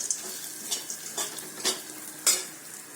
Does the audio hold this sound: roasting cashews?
yes